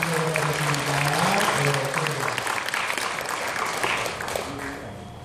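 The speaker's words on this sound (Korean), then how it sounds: "박수를 전체로 하고 박수 한번 크게 한번 해주세요" A church congregation bursts into loud, dense applause lasting several seconds, fading slightly toward the end, with a voice heard faintly underneath.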